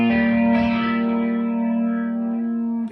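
Guitar effects pedal on its slow setting gives a steady sustained note a slow, swirling psychedelic modulation with chorus-like shimmer and distortion, played alone and loud for about three seconds before cutting off.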